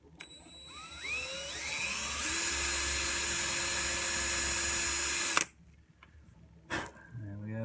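A hinge bit drills a pilot hole for a Joe Barden Danny Gatton T-style guitar bridge: a high power-drill whine revs up and holds steady for a few seconds, then stops abruptly, followed by brief handling noises.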